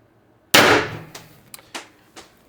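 An X-68 pistol fires a single 8.4 gram Smasher XL round, one loud sharp pop with a decaying tail, followed by a few quieter clicks and clatters.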